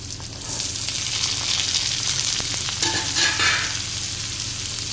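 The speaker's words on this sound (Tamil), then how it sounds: "பீட்ரூட்டை சேர்த்து நல்லா அந்த எண்ணெயில் வந்து நல்லா ஃப்ரை பண்ணிக்கலாம்" Chopped beetroot frying in hot oil with softened onion makes a loud, steady sizzle, with stirring scrapes and crackles swelling midway, and no voices.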